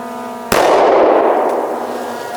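A single sharp gunshot from an M&P Shield 9mm pistol fired at a target, loud and close, cracking at once and leaving a long ringing decay with no talk over it.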